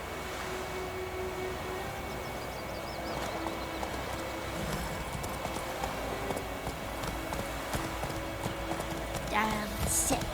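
Hooves of the horse Roach clip-clopping at a steady trot across ground in The Witcher 3, a continuous rhythmic patter under game ambience and occasional speech.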